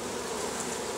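A dense, steady swarm of honeybees buzzes close up during a package install into a hive, an unbroken drone with no voices.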